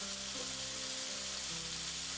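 Pork ribs fry in smoking-hot oil in a wok for sweet and sour pork, giving a steady, close sizzle with soft crackling throughout and no voices.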